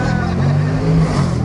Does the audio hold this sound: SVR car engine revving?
yes